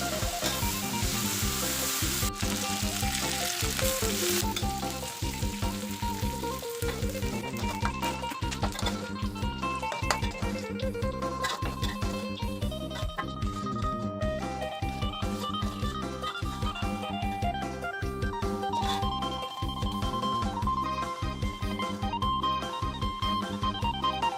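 Mole crickets frying in oil crackle and sizzle continuously at close range, a dense, even bubbling with faint stirring, no voices throughout.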